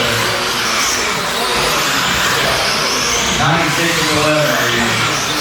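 Race car engines roar at an indoor dirt oval track at The Barn in Waverly, Ohio, a continuous loud rumble under an announcer calling the race.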